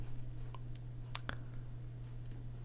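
Small, sharp mouse clicks while setting up a new document in Adobe Illustrator, a few isolated ticks scattered over a steady low electrical hum, close and fairly faint.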